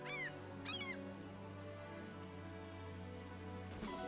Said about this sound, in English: Look at this seagull.